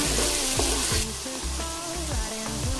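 Slit green chillies frying in hot oil, a steady close sizzle with faint background tones, continuous and without talk.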